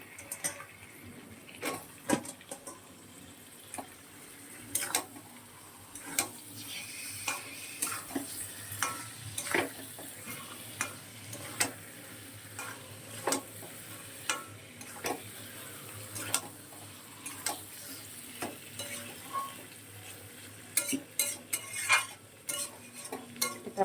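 Meat frying in a pan with whole spices such as cinnamon, cloves and dried chili, a soft steady sizzle broken by frequent sharp taps and scrapes of a stirring utensil, faint and close.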